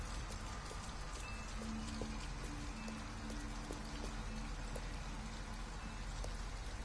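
Steady rain falls evenly throughout, a dense hiss with scattered drips, while a faint low tone hums beneath, from the video game Detroit: Become Human.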